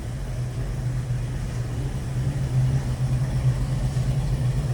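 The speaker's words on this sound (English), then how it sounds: "Thing runs very, very nice. Sits here and just purrs like a kitten." A fully restored 1970 Ford Bronco with a 302 V8 idles smoothly and evenly, giving a steady low burble that stays constant throughout.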